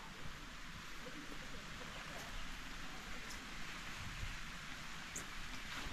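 Rain falls steadily through a forest, a dense, even hiss of drops that never lets up.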